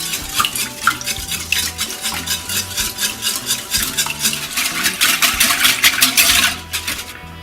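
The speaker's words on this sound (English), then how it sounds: "Then add 3 eggs and add 1 tablespoon of vanilla extract. Now whisk this until it's well combined." Three eggs with a tablespoon of vanilla extract being whisked briskly in a bowl, a steady rapid run of clinking whisk strokes close by with no talking, growing busier toward the end.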